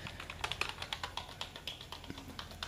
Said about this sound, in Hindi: मतलब ये सारा कुछ मैं टाइप कर रहा हूँ